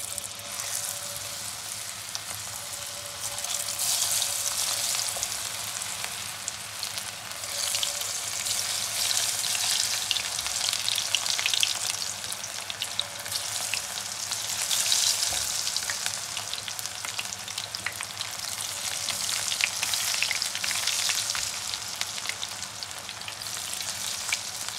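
Besan pakora batter sizzling in hot oil, a loud, continuous crackling hiss that swells slightly as pieces are dropped in one by one, with no voices.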